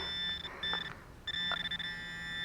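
A handheld metal detector pinpointer sounds off in a short burst of electronic beeps against a faint steady tone, with brief pauses between tones, close and fairly quiet, no voices.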